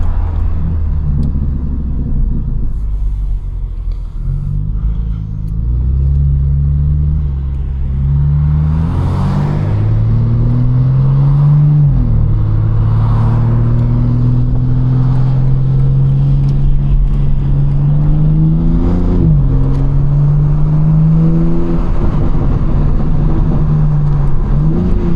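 A BMW G80 M3 accelerates hard up a highway on-ramp with traction control off, its engine note rising through the gears in loud, close rumbling pulls with shift breaks between them.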